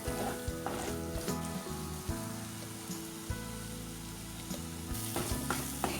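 Spice powders sauté in a pan for a Kerala-style crab roast, giving a steady close sizzle with soft stirring scrapes and occasional light taps, alone with no voices.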